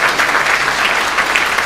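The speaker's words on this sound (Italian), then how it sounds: "penso che un bel applauso da questa sala sia cosa buona" An audience in a hall at a political meeting in Pescara claps in a brief, dense burst of steady applause that fills the room without pause.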